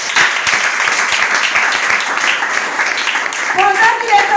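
A church congregation applauds and cheers together, a loud, steady wash of clapping lasting several seconds, with a voice rising over it near the end.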